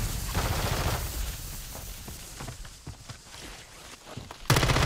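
Muffled gunfire coming through a wall in a video game, a spread of dull bursts and scattered shots at moderate distance, ending in one louder, sharper crack.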